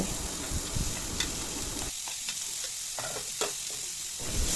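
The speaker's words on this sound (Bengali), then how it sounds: "সবজিগুলিকেও নুন হলুদ দিয়ে ভালো করে ভেজে নেব" Chopped onion, carrot and capsicum stir-fried in a pan with garlic, curry leaves, salt and turmeric, giving a steady close sizzle with intermittent scraping from stirring, no talking.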